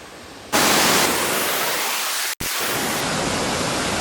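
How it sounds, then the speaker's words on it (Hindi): A large waterfall at Kodaikanal roars as a dense, broadband rush of falling water, loud and close, after a quieter opening, with a brief dropout midway before the steady roar returns. "हम फाइनली अपने वाटरफॉल पहुंच चुके हैं"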